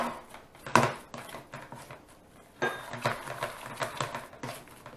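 Pierogi filling mashed in a bowl, heard as a series of close, irregular scraping and clinking strokes of a utensil against the dish, with short pauses between bursts.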